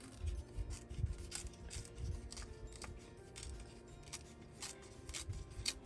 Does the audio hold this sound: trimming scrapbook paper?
yes